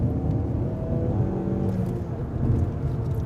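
A car engine hums and rumbles steadily, up close, under acceleration with a continuous low drone and no voices.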